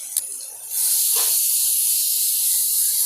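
Ginger garlic paste drops into a hot frying pan for chicken biryani and bursts into a loud, sharp sizzle that holds as a bright, steady hiss after a quiet start and a faint clink.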